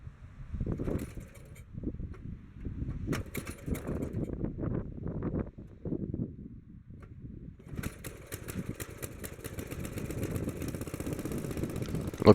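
A Wheel Horse 704 garden tractor's small engine starts and runs up close, a steady mid-pitched idle settling in after a few uneven cranking bursts, continuous and fairly loud with no voices.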